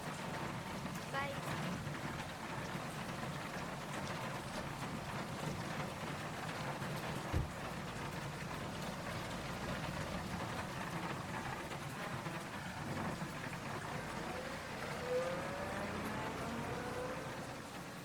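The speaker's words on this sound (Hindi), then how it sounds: "इतनी जोरों की बारिश हो रही है" Heavy rain pours steadily throughout as a dense, even broadband hiss with no breaks, holding at a constant level.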